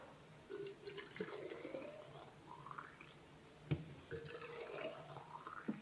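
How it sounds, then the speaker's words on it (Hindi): Hot water pours into baby feeding bottles, quiet gurgling fills whose pitch rises as each bottle fills, with a pause and a soft clunk between pours. "पानी मैंने गर्म कर लिया है, तो फीडरों में पानी डाल देती हूँ"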